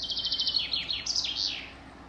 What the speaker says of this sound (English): Isn't it lovely hearing all the birds?